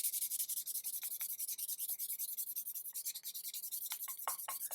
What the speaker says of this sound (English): use the rougher sandpaper over here and start sanding it down